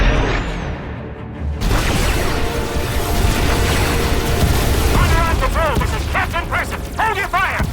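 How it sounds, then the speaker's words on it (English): Orbital defensive cannons fire on Republic ships in Star Wars: The Old Republic: heavy booming blasts and bursts of fire pile up in dense succession, with whooping electronic sweeps rising and falling through the barrage. "Defensive cannons activated. I'm targeting the Republic ships now."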